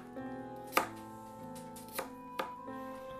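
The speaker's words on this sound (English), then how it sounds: "you can just chop that up a bit" An apple is chopped with a knife on a board, a handful of distinct, sharp cuts spaced unevenly over a few seconds, close and moderately loud over faint background music.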